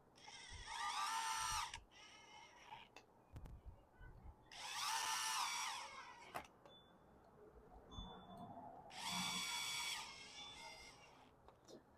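A power drill drives the front screws into a generator cover on a Predator 9500, three loud whirring bursts of a couple of seconds each, separated by quieter clicks and handling noise.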